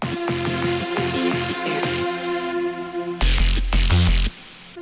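Drum and bass section with a bar of gap before a delayed crash: a dense, loud beat with punchy kicks and snares, a brief thinned-out stretch, then heavy bass and cymbals return, no voices.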